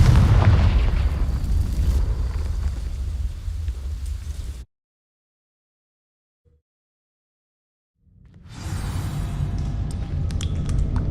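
A Confringo fire spell in Hogwarts Legacy bursts against dry vines, a loud rumbling boom with crackling fire that cuts off into silence for several seconds, then a dense burning roar resumes.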